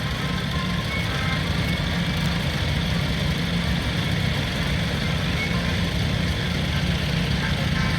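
A 1950 Ferguson 20 diesel tractor idles at a steam rally, its engine rumbling steadily and continuously at close range amid outdoor background noise.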